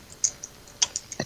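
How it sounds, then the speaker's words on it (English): Computer keyboard typing during an online gaming session, a handful of quick, light key clicks spaced irregularly and heard faintly at a distance, with no talk over them. "I hear him typing away."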